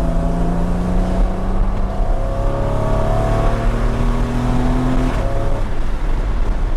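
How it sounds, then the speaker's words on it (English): Loud in-car engine sound from a Porsche Cayman 981 accelerating, revs rising smoothly then dropping sharply at a quick gear change around five seconds, with constant road and tyre roar. "what we all want to see and hear is this thing driving like it was intended to be driven"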